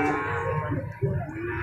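Cattle mooing loudly and close throughout, a low drawn-out bovine call from a Doro cow with a young calf at a livestock pen, with no talk over it.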